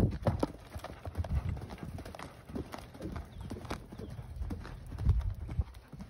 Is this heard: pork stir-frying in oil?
no